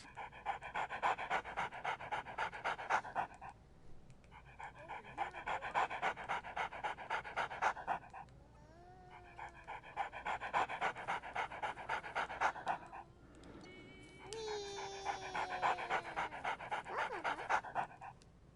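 Rhythmic dog panting from the VR game Good Dog, Bad Dog, steady breathy bursts in long runs with short pauses, joined near the end by whistling and bright chirping game sounds.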